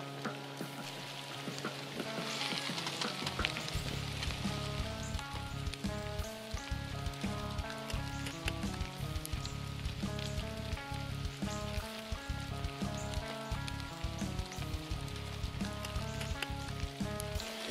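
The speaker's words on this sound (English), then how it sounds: "You know it's cameraman love when he's out here in the rain and the freezing weather with you." Rain falls outdoors in cold, freezing weather at a hunting spot, a steady dense patter and hiss that continues throughout, with a low tonal hum underneath and no talking.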